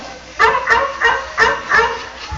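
Dog barking, five short sharp yips in a quick uneven rhythm, close and fairly loud with nothing else around them.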